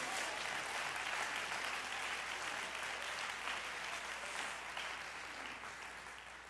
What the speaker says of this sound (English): Everybody clap your hands to him.